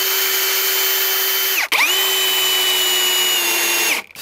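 A power drill pre-drills a corner profile for facade cladding, whining at a steady high pitch, pausing briefly, then spinning up again and running until it stops near the end, loud and close with no talking.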